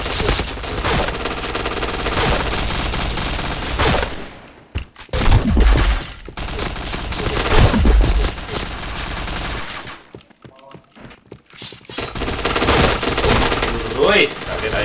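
Rapid automatic gunfire from the shooter game PointBlank rattles loudly in sustained bursts, broken by short gaps, with a player's voice speaking over the shots.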